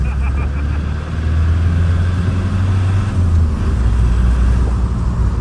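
A Cummins-swapped 1950 Chevy tow truck accelerates hard with wheel hop, its diesel rumbling loud and close with a deep, pulsing low-end drone throughout.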